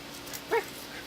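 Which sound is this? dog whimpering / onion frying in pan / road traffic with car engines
dog whimpering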